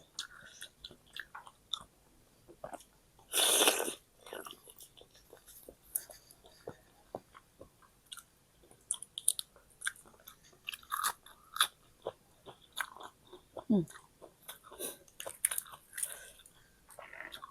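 Someone eats large blanched squid dipped in chili sauce, with soft biting and chewing sounds close up, broken by one loud crunchy burst early on, then quieter chewing and small clicks, with no talking.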